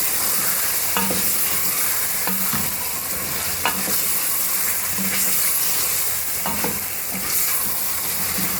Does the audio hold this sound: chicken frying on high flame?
yes